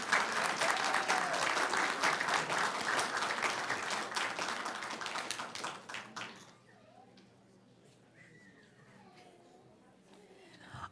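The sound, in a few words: applause for an honored teacher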